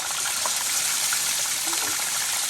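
Water gushing steadily through the flapper valve of a low-head, non-electric transfer pump driven by the weight of the water, a close, continuous rushing splash.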